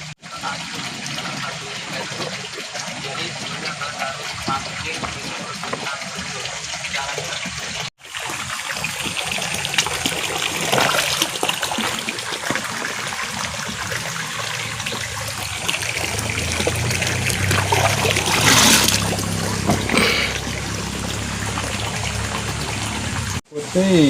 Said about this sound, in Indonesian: tinggal dicuci, direndam biar getah hilang dan enggak terasa pahit.